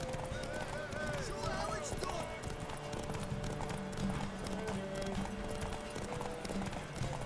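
Horse hooves clip-clopping at a steady trot in The Witcher 3: Wild Hunt, with a neigh or whinny among game music and ambience, while voices talk over it throughout.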